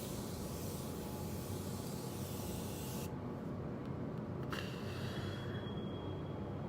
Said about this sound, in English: when I put on my setting spray, I blow out my face